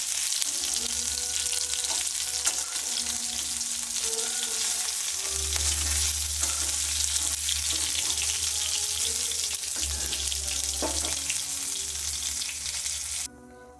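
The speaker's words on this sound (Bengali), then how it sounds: "মাছটা মনে হয় ভাজা হয়ে গেল" Chela fish fry in hot oil, a steady, close sizzle and crackle that continues without a break, with faint clinks of utensils and no talking.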